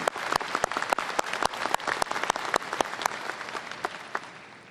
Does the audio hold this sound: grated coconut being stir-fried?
no